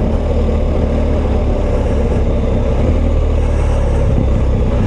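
A BMW R1250GS twin-cylinder motorcycle engine drones loud and steady while riding, a dense continuous rumble mixed with wind rush, with no voices.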